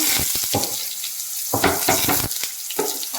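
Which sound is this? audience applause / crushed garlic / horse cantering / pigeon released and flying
crushed garlic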